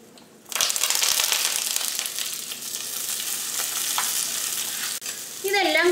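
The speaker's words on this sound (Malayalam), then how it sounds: "ഇതെല്ലാം കൂടിയിട്ട് നന്നായിട്ടൊന്ന് മുരിച്ചെടുക്കണം" Onion, ginger, garlic, green chilli and curry leaves hit hot oil with dried red chillies in a pan, sizzling loudly and steadily up close while being stirred, with a brief pause near the end.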